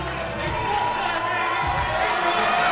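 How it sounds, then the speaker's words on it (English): A raucous crowd roars and cheers at a boxing fight in Sony Hall, New York, a dense, steady wall of voices and whoops filling the whole stretch, loud and close. "A raucous crowd, as you can hear."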